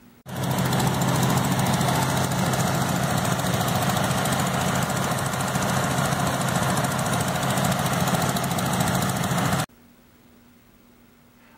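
Several small tractors, around 120 horsepower combined, run together in a loud, steady engine drone with a buzzing rattle for about nine seconds, then cut off abruptly to near silence.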